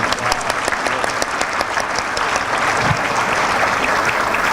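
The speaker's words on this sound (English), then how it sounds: "Let's give Omar another round of applause." Audience applause at an annual conference awards ceremony, steady dense clapping from a seated crowd lasting the whole stretch at moderate loudness, with no talk over it.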